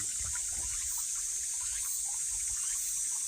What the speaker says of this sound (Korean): 여기서 물소리가 나는데요